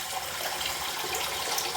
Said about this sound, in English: Put some water in that sink, nice warm water.